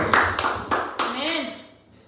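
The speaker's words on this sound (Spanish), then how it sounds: "Nosotros damos un aplauso fuerte al Señor." A church congregation claps in loud, close bursts, a few sharp rounds of applause that fade out as a voice speaks over them.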